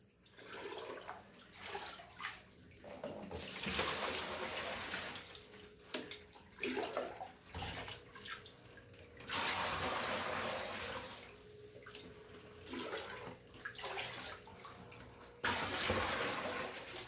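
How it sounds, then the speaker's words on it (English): Water from a monster pleco's tank pours and splashes into a bucket in uneven bursts, with gurgling gushes broken by short pauses and drips, fairly close and moderately quiet. "we're going to put some of his water in this bucket"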